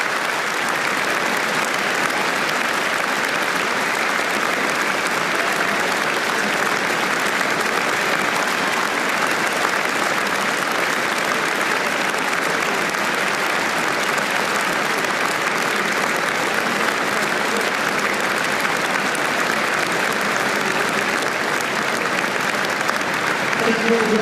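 A near-full cricket crowd at the SCG in Sydney applauds steadily during a guard of honour before the first ball on day 1 of the fifth Ashes Test, a dense, unbroken wash of clapping that holds at the same level throughout.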